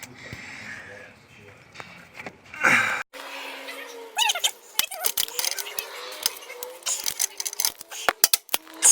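Metal cutting and bending on the brake backing plate of a Toyota 86 (Subaru BRZ) being fitted with upgraded brakes, with close, irregular snips, clanks and scraping bursts; voices talk between the strikes.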